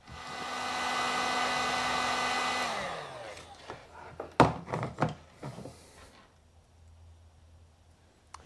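A heat gun shrinks heat shrink tubing, blowing with a loud steady whine for a few seconds before winding down, followed by a handful of nearby clunks and knocks as the tool is set down.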